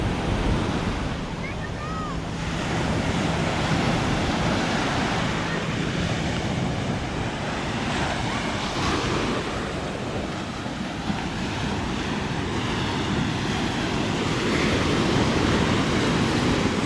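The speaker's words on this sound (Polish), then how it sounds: "fale są dzisiaj mniejsze." Sea waves on Patong beach in Phuket, Thailand: a continuous roar of surf breaking nearby, with gusty wind buffeting the microphone throughout, loud and steady for the full stretch.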